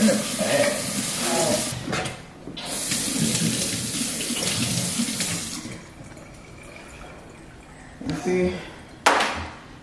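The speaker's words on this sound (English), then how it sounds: "You gotta rinse your hands up, wash your hands." Running water from a kitchen faucet splashes over hands being rinsed, a steady hiss for several seconds under people talking, then fading before a couple of brief bursts near the end.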